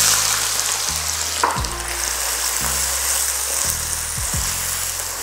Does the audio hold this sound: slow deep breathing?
no